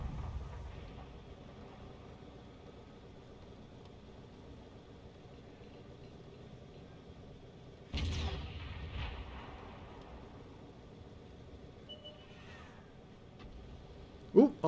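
An artillery shell slams down near a Manticore tank in a tank battle game, one heavy, sudden impact midway over a low, steady engine rumble, followed later by a sharp crack.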